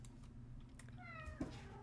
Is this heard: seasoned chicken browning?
no